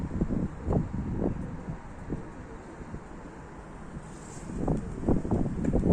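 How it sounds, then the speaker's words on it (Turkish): Gusty wind buffets the microphone with low, rumbling bursts that rise and fall irregularly, with no voices. "Hava rüzgarlı biraz."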